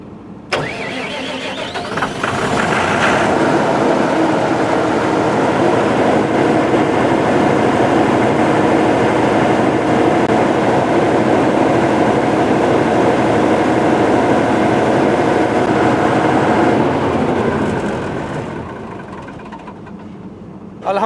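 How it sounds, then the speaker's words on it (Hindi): A 150 kVA diesel generator with a Deep Sea controller cranks, catches and settles into a loud, steady running drone, holding for most of the stretch before winding down. "जनरेटर हमारा स्टार्ट हो चुका है"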